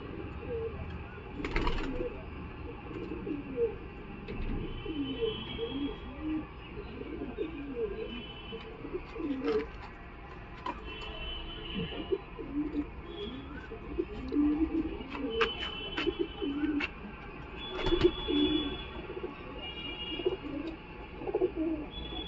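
Giribaz and Madras pigeons at the Galiff Street market coo repeatedly in low, throaty rolls, with occasional chirps and market chatter mixed in around them.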